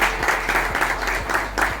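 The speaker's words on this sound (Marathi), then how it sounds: "एकदा जोरदार टाळ्या" An audience at an inauguration ceremony for a sanitation inspector diploma course claps loudly, falling into a rhythmic unison beat that repeats several times a second.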